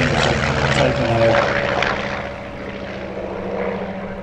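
Spitfire propeller fighters passing at an airshow, a loud throbbing piston-engine drone with a steady tonal whine that swells and then eases slightly as the aircraft move along.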